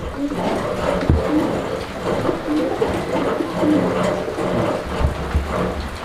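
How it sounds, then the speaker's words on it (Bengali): Pigeons in a fancy-pigeon market give low, soft cooing that repeats through a busy, noisy background. "এখানে আরো এক জোড়া কবুতরের কালেকশন আছে"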